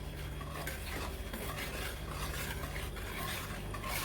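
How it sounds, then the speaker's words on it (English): A utensil stirs chocolate chip cookie batter in a bowl, producing a steady close scraping and swishing texture with faint clinks against the bowl, continuous and without speech over a low kitchen hum. "Now let's mix it again. Now mix it nicely."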